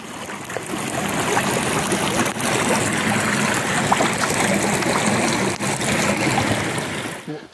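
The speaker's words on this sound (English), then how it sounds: "So there's a little ford here. I'm going to wash some of the mud off my boots." Muddy boots are washed in a shallow stream at a ford on a countryside trail, with continuous close running and splashing water, fairly loud and steady throughout and no voices.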